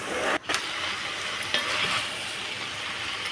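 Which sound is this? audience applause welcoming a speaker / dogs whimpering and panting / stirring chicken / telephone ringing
stirring chicken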